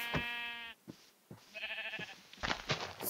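Several sheep bleats in the video game Minecraft, wavering nasal cries separated by short gaps, with faint clicks and game sounds between them.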